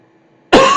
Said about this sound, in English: this cough is a nightmare. It just won't go away.